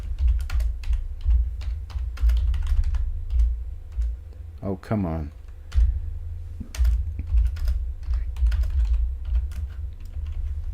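Rapid clicking on a computer keyboard with a low steady hum underneath, keystrokes coming in quick irregular bursts, and a man mutters briefly in the middle.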